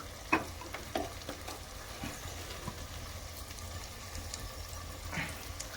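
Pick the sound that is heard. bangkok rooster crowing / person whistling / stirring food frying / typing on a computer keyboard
stirring food frying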